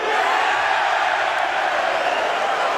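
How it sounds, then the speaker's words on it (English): Crowd at a Mosconi Cup pool match roaring and cheering in a steady, loud wall of voices, whoops and shouts sustained throughout without a break. "the crowd are back in full voice"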